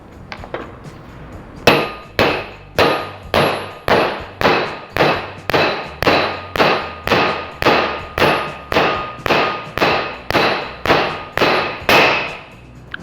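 A bearing race is hammered down into place while car work is underway: a long, evenly spaced series of about twenty loud metallic clanging blows, close and alone.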